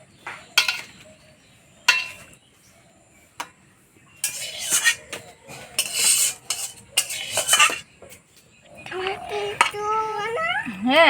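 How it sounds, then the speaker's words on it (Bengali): Chicken curry with chopped coriander leaves being stirred in a pot, metal spoon clinks and scrapes coming in bursts, with people talking, including a child, over and around them. "এবার ধনেপাতার কুচি দিয়ে নাড়াচাড়া করে নামিয়ে দেবো।"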